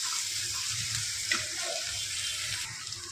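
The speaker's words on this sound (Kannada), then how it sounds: "ಈರುಳ್ಳಿನ ಚೆನ್ನಾಗಿ ಫ್ರೈ ಮಾಡ್ಕೋಬೇಕು" Onions fry in a pan for tamarind rice, a close, continuous crackling sizzle with occasional stirring scrapes and no talking.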